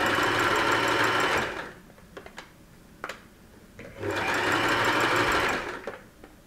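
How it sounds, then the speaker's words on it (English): A sewing machine runs a close zigzag stitch along a faux fur edge, two loud sustained bursts of rapid mechanical whirring separated by a quieter pause with a few clicks and handling sounds. "And I'm going to zigzag along the edge."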